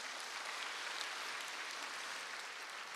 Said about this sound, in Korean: 동산의 가족이 되신 분들에게 마음을 담아 박수로 환영하겠습니다.